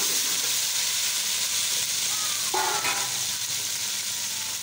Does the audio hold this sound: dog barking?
no